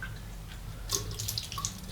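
Water is flicked off a wet Plisson High Mountain White shaving brush with a horn handle, giving a couple of brief splashy spatters and drips over a low background hum, with no speech.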